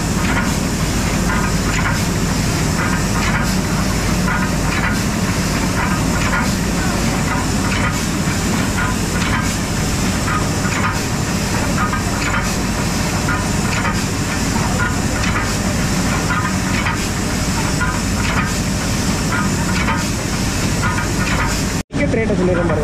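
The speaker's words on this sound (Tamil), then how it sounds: "மேட்டுப்பாளையம் டு உதகமண்டலம் மலை ரயில்." The Mettupalayam to Ooty steam mountain train runs continuously with hissing steam and rumbling wheel noise, near and loud throughout, ending in a brief dropout.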